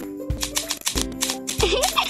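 Cartoonish paper-cutting snips from scissors in a Baby Twins daycare kids' mobile game, three crisp cuts spaced evenly over bright, tinkly game music, with no voices.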